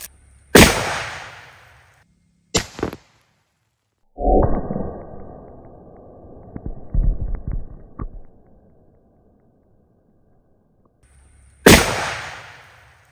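Three loud, sharp rifle shots from a Mosin Nagant firing 7.62x54R surplus ammunition, spaced a few seconds apart outdoors, with a rumbling noisy stretch in between and no talking.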